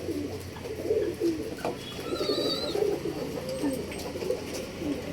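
Male pigeons kept for sale in RT Nagar, Bangalore coo repeatedly in soft, throaty rolling calls. Several birds overlap close by, with light chirps and background rustle.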